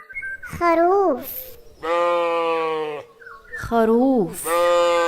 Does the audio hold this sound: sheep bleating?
yes